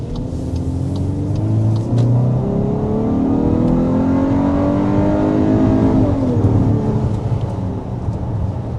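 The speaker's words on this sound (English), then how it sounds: "we need to go ahead and start with a hard acceleration" A 2025 Volkswagen Atlas Cross Sport accelerates hard, its engine's revving pitch climbing steadily and loud, then shifting gear and pulling on again.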